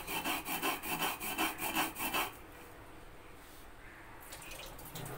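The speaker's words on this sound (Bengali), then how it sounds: "এবার এই কালো সর্ষেটাকে আমি ইতিমধ্যে বেটে নেব।" Black mustard seeds are ground on a grinding stone with a little water, giving a rhythmic scraping rub in quick, even strokes for about two seconds, close and clear, then faint wet rustling, with no talk.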